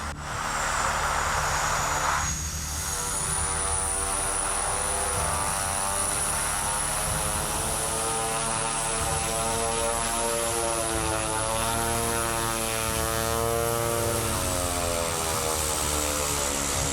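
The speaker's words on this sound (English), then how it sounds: "A Twin Otter aircraft is captured, skillfully landing on deep snow and wind-sculpted drifts atop a frozen, ice-covered lake in the remote wilderness of northern Saskatchewan." A de Havilland Twin Otter propeller plane lands on deep snow atop a frozen lake in remote northern Saskatchewan, its twin turboprops droning loud and steady throughout, with a pitch shift early on and no voices.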